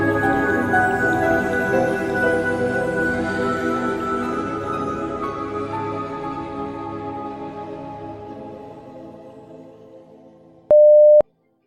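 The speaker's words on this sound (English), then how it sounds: "Forgot to silence my phone." A phone alert beeps once near the end, a short steady electronic tone. Before it comes a long decaying tail of sustained tonal music that fades gradually toward silence.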